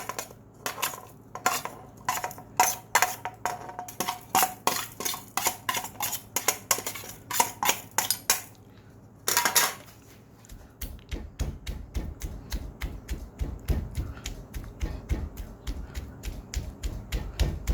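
Garlic and shallots pounded in a mortar for a Thai olive chili paste, rapid sharp wooden knocks in steady bursts, then a denser run of heavier thuds, close and alone without talk.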